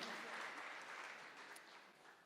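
Steady applause from a live hackathon finale audience, dense clapping that holds at a constant level for a couple of seconds, with a faint voice underneath.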